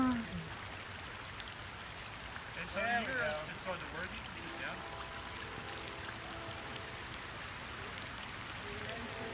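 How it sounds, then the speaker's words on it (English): Rain falls in a soft, steady patter, faint but continuous, while a voice speaks briefly over it. "The rain's picking up."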